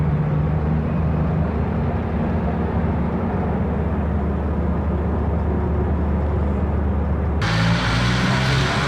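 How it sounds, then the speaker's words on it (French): Heavy earth-moving machines roar steadily at an open-pit oxide gold mine in Houndé, Burkina Faso, a loud continuous low rumble of engines with a shift in tone near the end, no voices. "de gros engins vrombissent."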